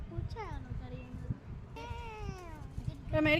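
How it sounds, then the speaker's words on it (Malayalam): A cat meows several times in an outdoor setting, rising and falling cries, with a longer drawn-out call in the middle and a sharper one at the end, over low background rumble and faint voices. "അതൊരു പൂച്ചയാണോ കരയുന്നത്?"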